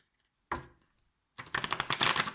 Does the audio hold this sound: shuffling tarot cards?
yes